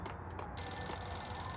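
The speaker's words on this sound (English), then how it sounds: "A payphone is ringing" A payphone rings in the Max Payne video game on PS2, a steady electronic tone held over a low ambient hum, fairly faint with no talking.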